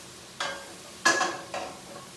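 Onions sautéing gently in a soup pot while being stirred, three distinct scraping strokes over a soft steady sizzle, close and fairly quiet.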